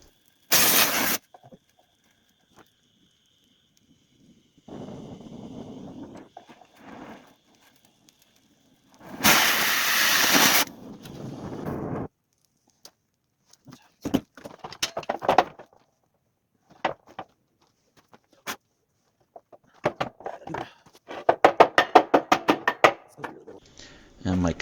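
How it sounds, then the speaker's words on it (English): A cutting torch slices through the steel drive shaft of a homemade power hammer: short roaring hiss bursts separated by silent gaps, one loud sustained blast midway, then a crackling, sputtering run near the end. "the only way to get this back out is to cut the shaft with my cutting torch"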